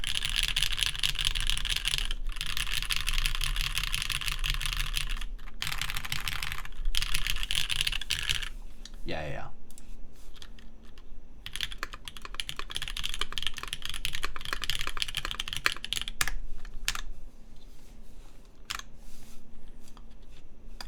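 Continuous clacky typing on a mechanical keyboard with a brass bottom and stiff O-rings, fast steady keystrokes with a few pauses; a brief voice interjects once.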